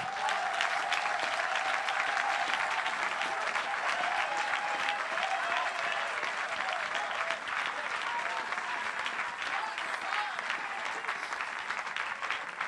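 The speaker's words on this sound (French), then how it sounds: "Acclamons-le encore une fois, frère." A church congregation applauds loudly and steadily after a sermon, a dense wash of clapping from a large crowd that holds near-constant for the whole stretch, with faint voices mixed into the applause.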